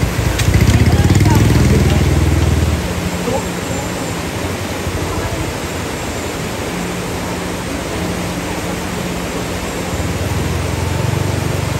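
A motorcycle engine idles close by as a steady low rumble. The loudness rises and falls slightly while people talk nearby.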